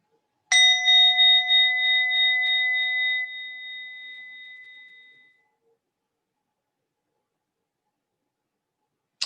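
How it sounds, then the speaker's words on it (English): A mindfulness bell struck once during a guided body meditation, a clear bright ring with a sharp attack and a long pure tone fading slowly into silence. "Now there'll be a last couple of breaths and then I'll ring the bell."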